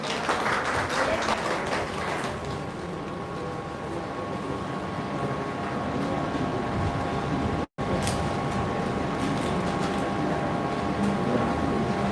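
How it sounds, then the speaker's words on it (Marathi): A seated audience claps at an award presentation, a dense, steady spatter of many hands that carries on for several seconds with a brief dropout partway through. "जोरात टाळ्या झाल्या पाहिजेत"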